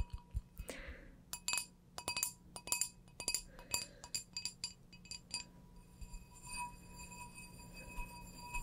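A plain wine glass is tapped and clinked in quick, irregular bursts, sharp bright taps with ringing tones that linger, close and soft against a quiet room hum.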